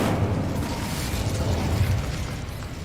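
An Incendio fire spell explodes in Hogwarts Legacy, a continuous roaring, crackling burst of flame that fills the clip with dense low rumble.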